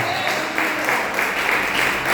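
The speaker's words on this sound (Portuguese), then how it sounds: "Se você entendeu, aplauda ao Senhor Jesus." Steady applause from a church congregation during a service, a dense continuous clapping that holds at an even level throughout.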